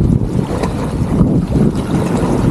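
Strong wind buffets the microphone in a steady, loud roar at sea aboard a small boat out shrimp fishing, with waves and water noise underneath and no talking.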